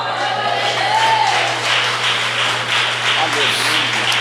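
A church congregation applauding, a steady, dense wash of clapping that fills the room and holds throughout, with a voice speaking over it.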